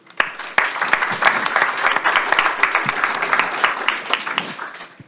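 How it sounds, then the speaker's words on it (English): Audience applause fills a conference hall at a sustainable aviation forum during COP28 in Dubai, a dense, steady wash of many clapping hands with sharp individual claps standing out, loud and sustained throughout. "I really would like to give them applause"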